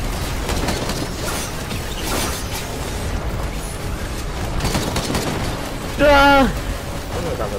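Gunfire and explosive bursts from the commander's weapons in Risk of Rain come in rapid, dense volleys during a Beetle Queen fight, with a brief tonal game effect near the end.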